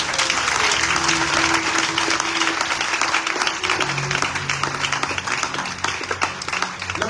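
A church congregation at a Sunday service applauds and cheers in praise, steady dense clapping with crowd voices filling the space throughout.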